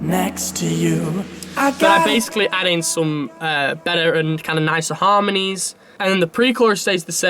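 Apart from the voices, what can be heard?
No everyday noises stand out.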